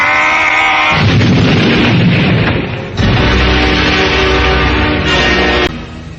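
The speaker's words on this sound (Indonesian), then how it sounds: "Ledakan keras terjadi." In an Indonesian radio drama, a loud explosion effect from a clash of two magic-wielding fighters sounds as a heavy, rumbling double blast. Each boom rolls on for a couple of seconds before cutting off abruptly.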